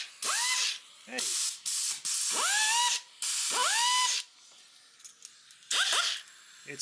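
A repaired air die grinder built from two broken ones runs in several bursts on compressed air, each spinning up with a rising whine over loud hissing air, then cutting off. Between bursts the hiss of a leak lingers quietly.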